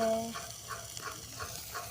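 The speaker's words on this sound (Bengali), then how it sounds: "মাছ ভাজি করে, আরও মাছ আলু পটল দিয়ে রান্না করছি।" Fish frying in a pan, with a steady hot sizzle and regular scraping strokes as it is stirred, close and fairly loud, with no voices.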